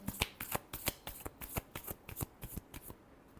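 Tarot cards are shuffled by hand in quick riffling bursts, roughly a dozen crisp strokes in a steady rhythm, close and fairly quiet.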